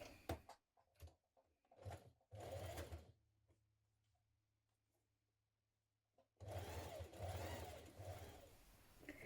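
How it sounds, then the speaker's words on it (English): A sewing machine stitches shirt fabric with a 6mm seam allowance, short clattering bursts of needle action, then a long quiet hum while paused, before a loud sustained run of stitching resumes close by. "we're now going to stitch this in place with a 6mm seam allowance"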